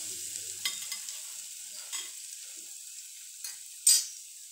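Cumin and ginger garlic paste fry in a pan as samosa filling, giving a low, quiet sizzle with a few scattered scrapes of a spoon, the last one louder, alone without talk.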